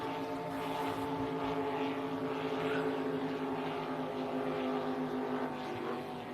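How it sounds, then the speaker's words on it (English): A racing speedboat with an LS-based Chevy engine drones steadily from a distance, holding an even, sustained engine tone at a speedboat race in St George. "Anthony Nibbs having a pretty successful run with this LS-based Chevy motor"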